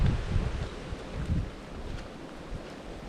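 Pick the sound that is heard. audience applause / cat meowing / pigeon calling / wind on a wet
wind on a wet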